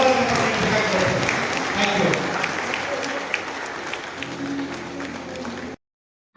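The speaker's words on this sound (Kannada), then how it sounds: "ಎಲ್ಲರೂ ಜೋರಾದ ಚಪ್ಪಾಳೆ" Loud, sustained clapping from a large audience at a student awards ceremony fills the hall, thinning toward the end before cutting to silence.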